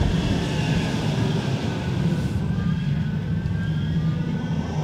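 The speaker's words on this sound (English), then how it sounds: "this tram actually arrived so soon" Manchester Metrolink tram pulling in at a station platform, a loud continuous low rumble and rolling hiss with faint high whines, steady throughout and close by, no speech.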